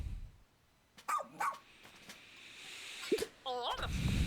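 Ochi, a dog in the video game Pikmin 4, lets out a few short barks and yips in separate bursts over quiet game audio, with voice-like sounds mixed in.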